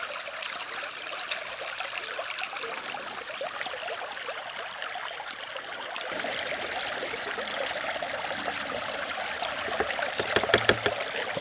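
Dammed creek water rushes and trickles steadily through a 50-inch folding sluice box on a glacial gold creek. The gurgling flow is close, continuous and free of talk, with a few sharper splashes near the end.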